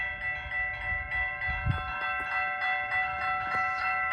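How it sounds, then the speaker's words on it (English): Siemens high-pitched railroad crossing bells ring at the Antoine St crossing in Wyandotte with no train passing, a steady rapid chiming of bright tones over a low rumble. "For all you fans of the Siemens high-pitched bells, here's what it sounds like with no train going through."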